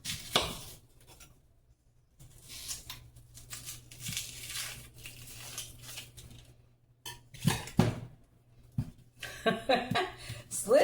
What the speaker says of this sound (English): I'm going to cut up these onions